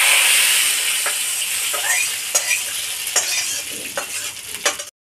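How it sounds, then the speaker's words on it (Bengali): Dried chilli, bay leaf and ginger sizzle steadily in a hot oil-filled wok as spices are tipped in and stirred, with a continuous close frying hiss and a few sharp scraping clicks of the spoon, ending abruptly. "ভাজা হয়ে গেছে শুকনো লঙ্কা, তেজপাতা আর আদাটা। এবার মশলাটা এর মধ্যে দিয়ে দেবো কড়াতে।"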